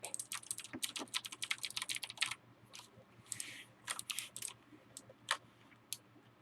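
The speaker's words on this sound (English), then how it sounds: "Cherry MX key switches I'm not familiar with, but they got that sound that reminds me of older keyboards." Fingers type on a WASD Space Cadet-style custom keyboard with Cherry MX Blue switches, producing quick clicky keystrokes in rapid bursts, then sparser taps, fairly quiet and close.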